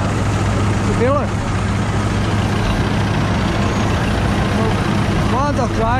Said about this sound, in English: The traction engine is working the actual baling machine, the wooden thing. But the tractor is firing the baler.